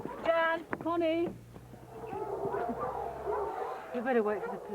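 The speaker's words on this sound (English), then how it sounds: "the dogs are all barking" Several dogs bark and bay together in a steady, loud chorus, with people's voices mixed in over the barking.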